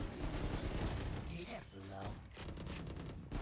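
Bursts of gunfire from the video game Valorant during a youth esports tournament grand final, rapid overlapping shots and booms packed densely through the clip, with an excited caster talking over the action.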